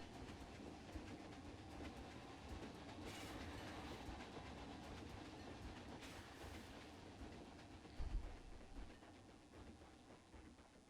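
A park ride train runs with its engine pushing the carriages from behind, giving a steady rolling rumble with clickety-clack rail noise throughout and a brief louder knock near the end, no talk.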